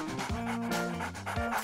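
A dog panting steadily in quick, rough breaths, close by and moderately loud, with a faint whimpering tone running through it.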